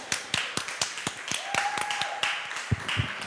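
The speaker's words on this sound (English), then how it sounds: "An applause, please." A small audience gives sparse applause for a student speaker, separate sharp claps spaced irregularly rather than a full roar, fairly close, with a faint steady tone running briefly underneath.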